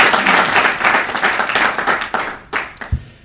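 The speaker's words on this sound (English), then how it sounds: "Please give them a round of applause." Audience applause at a chamber of commerce State of the Chamber event in a hotel, dense steady clapping that thins and breaks into a few scattered claps toward the end.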